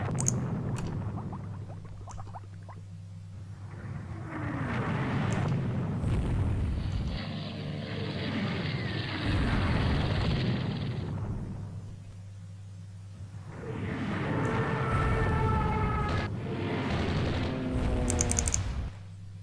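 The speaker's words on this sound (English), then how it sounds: "And they're bombing the Nagato." Muffled bomb blasts and rumbling explosions strike a battleship in a naval warfare strategy game, arriving as swelling bursts across the stretch with no speech over them.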